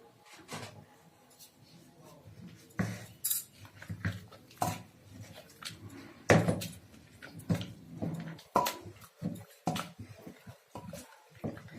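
Khesari saag cooking with spinach and bathua in a Mithila-style pot, stirred with a spoon that gives irregular clinks and scrapes against the metal, fairly quiet and close, with occasional faint talk.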